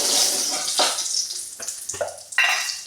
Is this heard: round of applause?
no